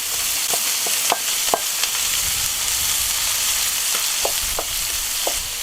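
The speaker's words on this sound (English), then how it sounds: "Give that a bit of a sear" Onions and garlic searing in olive oil in a Dutch oven give a steady, loud sizzle with scattered pops and crackles throughout, close up and without talk.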